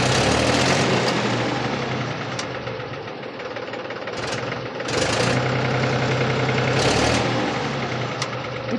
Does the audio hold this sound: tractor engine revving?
yes